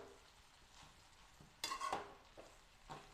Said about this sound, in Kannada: ಈಗ ಮಿಕ್ಸ್ ಮಾಡ್ತಾ ಇದ್ದೀನಿ